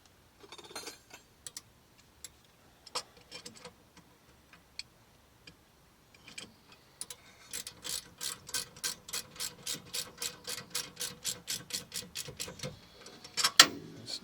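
A ratchet tightening a brake bolt on a 2019 Honda Odyssey during a rear rotor and pad change: scattered single clicks, then a run of about twenty quick, even, fairly close ratcheting clicks.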